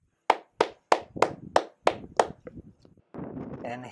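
Clapping for a climber on the summit of Mount Kazbek, seven sharp, close hand claps in an even rhythm, then a few softer ones trailing off before a burst of wind or breath noise.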